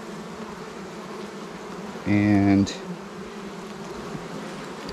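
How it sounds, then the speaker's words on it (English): Honey bees buzz around a healthy, busy hive, a steady drone throughout with a brief louder, tonal burst near the middle, and a voice speaks briefly. "So this hive also plenty of bees"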